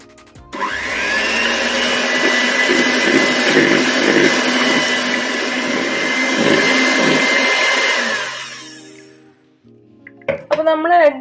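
A loud electric beater whisks eggs for madeleine batter, a steady close whirring drone lasting several seconds before it cuts off, followed by brief clinks and movement.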